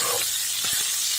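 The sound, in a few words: garlic sizzling while frying for octopus soup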